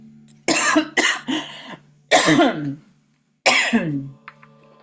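Several harsh, forceful coughs in quick bursts, a cluster of three followed by two more separated by short pauses, close and loud.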